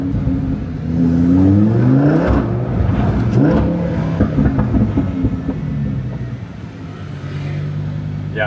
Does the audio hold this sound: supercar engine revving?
yes